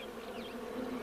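Honey bees swarm at the entrance of a busy hive, a dense continuous buzz holding steady throughout at close range, with faint higher wing tones drifting over the drone.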